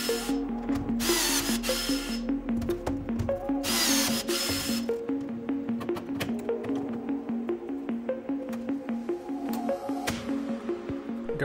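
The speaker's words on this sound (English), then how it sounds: "I'll go ahead and pop these two rivets in here" Pop rivets being set into a Rans S-21 aircraft header tank, with sharp squeezing clicks and snaps from the rivet tool repeating quickly and closely, plus a short burst of mechanical whirring near the start.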